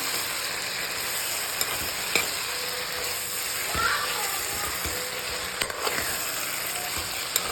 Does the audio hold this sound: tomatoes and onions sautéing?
yes